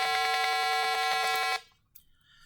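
Arduino buzzer in a simulation driven by a 150 Hz square wave gives a loud, steady, harsh electronic buzz with a rapid pulsing texture for about a second and a half, then cuts off to near silence with a faint click.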